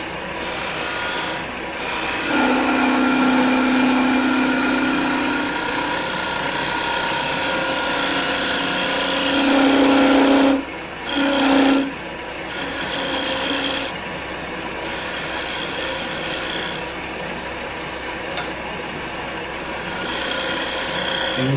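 Rod scraper working end grain timber on a lathe, a loud continuous rasping drone from the spinning wood with brief pauses and shifts in pitch as the tool is presented at a slicing angle.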